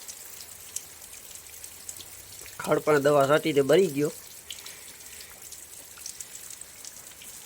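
Light steady rain falling outdoors, a faint continuous patter with scattered drips, briefly covered by someone speaking in the middle.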